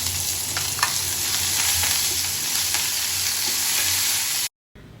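Shallots, garlic and fresh curry leaves fry in a pan for a dal curry, a dense close sizzle with a few light stirring clicks, cutting off abruptly at the end.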